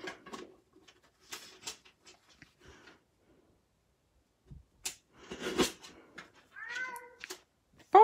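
A cat meowing indoors, a few short plaintive mews near the end after scattered soft rustles and taps, close but fairly quiet.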